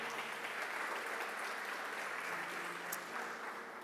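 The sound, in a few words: congregation applauding in church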